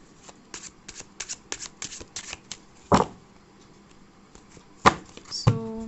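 Tarot cards being shuffled by hand, a run of quick crisp riffles and flutters with a few sharper slaps and card taps standing out near the end, close and fairly loud with no talk.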